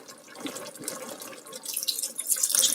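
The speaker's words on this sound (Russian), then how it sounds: "Немножечко добавлю воды" Water pours into a pot of broth and vegetables, a steady trickle that grows louder and brighter toward the end.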